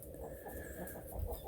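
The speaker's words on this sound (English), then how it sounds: "he's still a young rooster" Chickens cluck softly in a snowy farmyard, a low, faint, continuous murmur of clucks with no voices.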